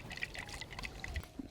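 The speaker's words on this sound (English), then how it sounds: "We have a little coconut. The water lives inside here." Water sloshes and trickles inside a small coconut as it is shaken, a quiet, close, uneven liquid swishing with no talking.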